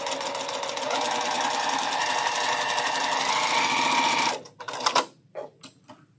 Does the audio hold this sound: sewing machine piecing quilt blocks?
yes